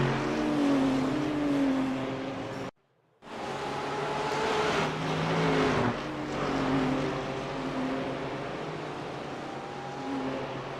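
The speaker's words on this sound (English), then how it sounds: "That German engine is roaring." German race car engine roaring in a Nürburgring 24-hour racing video game, a loud continuous drone with shifting pitch lines, cut by a brief silent gap early on before resuming and holding steady.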